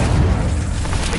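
An Incendio fire spell cast in Hogwarts Legacy, a loud, brief fiery burst with a deep booming rumble that fills the moment.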